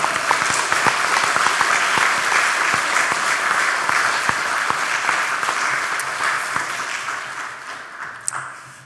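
A church congregation applauds at a mission revival service, a dense sustained clapping that holds steady and loud throughout, with scattered sharper claps standing out near the end.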